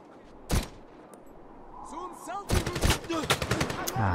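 Gunfire in the video game Medal of Honor (2010): a single sharp shot, then a rapid cluster of loud bursts, with voices talking in between.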